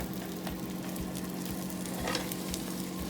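Tortilla sizzling steadily in a frying pan as it browns for a breakfast quesadilla, a continuous close crackle with faint scraping ticks, no voices.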